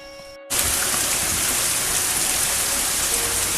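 Rain falls on a garden with tomato plants, starting abruptly after a brief quiet moment, then a dense, even hiss of drops continues close by with no voices.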